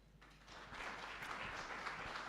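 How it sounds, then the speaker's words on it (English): Applause from a summit audience rises within the first half second and then holds as a steady, fairly distant patter of clapping, with no speech. "Please, a big round of applause."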